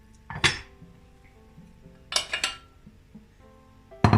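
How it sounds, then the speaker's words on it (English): Diced pieces drop into a metal pot, making three separate bright clinking clatters spaced over a few seconds, close and sharp against a quiet kitchen background. "I'm just gonna pop it in a"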